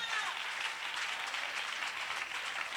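A church congregation applauding to acclaim the Lord, a dense, steady roar of many hands clapping together that holds evenly from start to finish.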